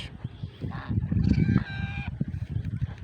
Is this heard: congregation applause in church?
no